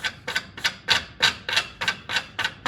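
Rhythmic rasping strokes of a file across the felt of an upright piano hammer held up with a voicing block, about eight even strokes in under three seconds, close and crisp with no talking.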